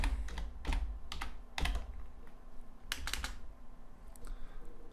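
Fast keystrokes on a computer keyboard typing a short folder name during file saving, in clustered bursts of clicks, close and clear with no talking.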